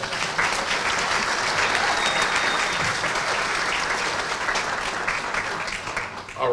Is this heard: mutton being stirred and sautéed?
no